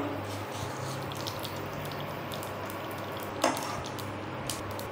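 Mustard seeds and a dried red chilli fry in oil in a home kitchen pan, giving a steady, moderately loud crackling sizzle with one sharper pop near the end.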